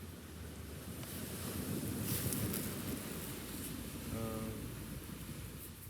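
Ocean waves and wind at a beach on a nice day, a broad steady wash of surf with gusty wind rumble buffeting the microphone, continuous and fairly loud, with a faint brief tone near the end and no talk.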